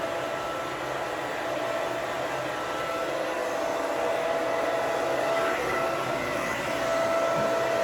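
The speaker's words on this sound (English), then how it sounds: "I just like to hold the dryer with the nozzle part going down this way" A hair dryer blows with a constant, loud airy whoosh and a thin whine running underneath, holding steady throughout.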